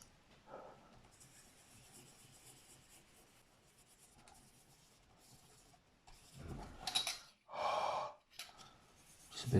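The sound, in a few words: breathing onto a scale model Chinook helicopter in circular motions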